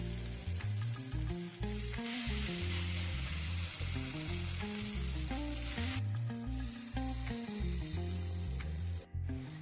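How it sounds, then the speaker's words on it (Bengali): Egg and lentil bora batter frying in hot oil, a loud, steady sizzle running continuously with background music playing over it. "যেইটুকুনি বেটার আছে সেইটুকুনি বেটার দিয়ে আর কটা ভেজে নেব"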